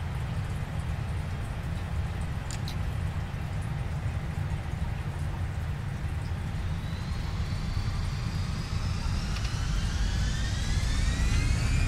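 Jet engines of an Airbus A320 at takeoff in Microsoft Flight Simulator roar as a steady broad rush, with a rising whine climbing and growing louder in the later seconds.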